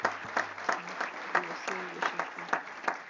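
A room full of delegates at an IOM Council meeting claps steadily, a dense wash of applause with voices faintly audible underneath.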